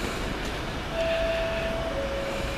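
Class 66 diesel locomotive 66095 passing on the railway, a steady low rumble with a sustained tonal whine running through, heard at moderate distance without talk.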